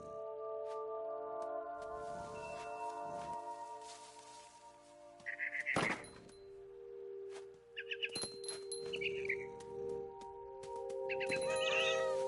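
A cat meows several times in the video game What Remains of Edith Finch, drawn-out calls and caterwauls over a sustained musical soundtrack with chimes and bird-like chirps.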